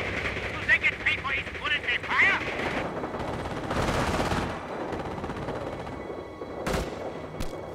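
Gunfire in Company of Heroes (2006) as the base comes under attack in the besieged Falaise Pocket city: bursts of machine-gun and rifle fire, with a heavier sustained roar midway and sharp isolated shots near the end, mixed with battle noise.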